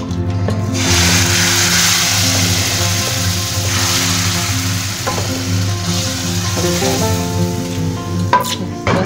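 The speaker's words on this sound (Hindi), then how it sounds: "अब इस तड़के को हम दाल में ऐड करेंगे।" Loud, crackling sizzle as hot spiced oil hits a pot of lentils, a steady frying hiss with bursts of popping and some stirring, no voices.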